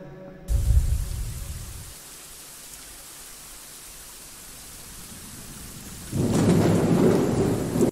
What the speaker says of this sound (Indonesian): Oke, kita ambil suara badai ya